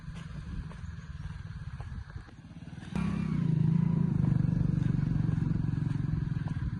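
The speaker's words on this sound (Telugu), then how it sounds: "ఇక్కడ కారు బైక్ వస్తున్నాయి కదా." A motorbike on a freshly gravelled village dirt road between red-soil fields, its engine faint at first, then growing abruptly loud and close midway, holding a steady drone as it passes.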